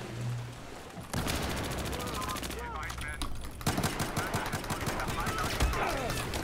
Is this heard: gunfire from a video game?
yes